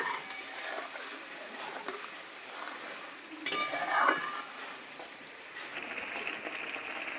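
A spice paste with cashews and yogurt is stirred in a wok, heard as a low, steady sizzle with scattered utensil scrapes and one louder metallic clink partway through.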